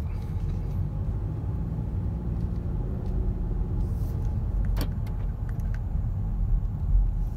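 A 2017 Nissan Rogue with about 30,000 miles drives through the city at night, a steady low engine and road rumble heard from inside the cabin, with a few faint clicks and ticks.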